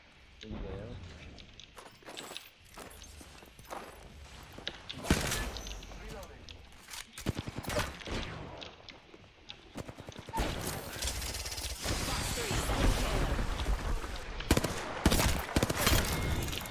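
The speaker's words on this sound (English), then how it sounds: "I am taking fire." Gunfire in the battle-royale game Apex Legends, bursts of shots cracking out repeatedly amid footsteps and game voice lines, growing denser and louder toward the end.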